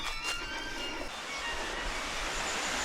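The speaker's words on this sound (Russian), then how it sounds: "Я думаю, что это водопад. И да, это водопад." A waterfall on Camiguin Island roars in a constant broad rush of falling water, steady and enveloping like heavy surf, with no voices over it.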